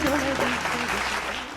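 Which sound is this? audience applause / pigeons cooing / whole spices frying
audience applause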